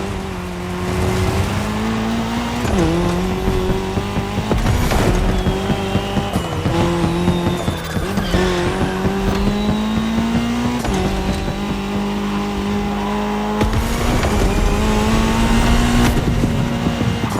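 Rally cars racing in The Crew Motorfest, including an Audi S1 EKS RX Quattro and a Ford Puma Hybrid Rally 1, with loud engines revving hard through repeated gear shifts and tire squeal, continuous and close throughout.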